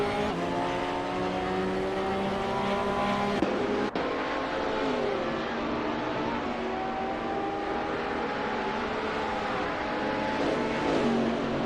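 Race cars in Gran Turismo Sport, including an Aston Martin, roar steadily as a pack, engine notes rising and shifting through gears with a sharp click partway, loud and continuous with no talk.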